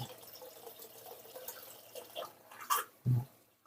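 Water trickling and dripping as an aquarium auto top-up refills the tank from a mains pipe, soft irregular splashes building to a few louder plops near the end, close and fairly quiet.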